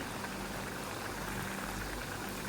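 Kuzhalappam dough frying in hot oil, a steady dense bubbling sizzle throughout, close and even with no talking.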